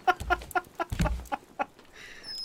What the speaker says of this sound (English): Where are you at, you little scumbag freaking seagull?